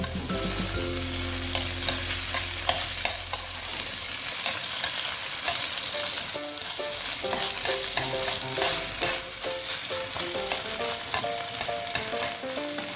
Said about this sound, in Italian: A questo punto dobbiamo di nuovo rigirare gli spaghetti e facciamo così